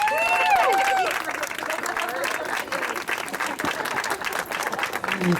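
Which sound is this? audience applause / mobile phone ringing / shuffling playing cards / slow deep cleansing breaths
audience applause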